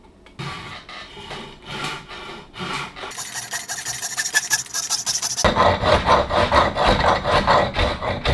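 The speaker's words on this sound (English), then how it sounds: "Now I'm gonna cut me a wedge using some of this exotic hardwood." Handsaw cutting a wedge from a piece of exotic hardwood for seating an axe head, steady rasping strokes close up that grow louder and denser toward the end, with no talking.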